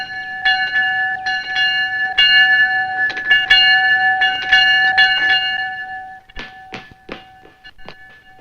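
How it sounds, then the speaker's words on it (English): A bell rings repeatedly in a steady clanging rhythm, bright and fairly close, then a few sharper metallic strikes follow as it winds down. "That's a train bell"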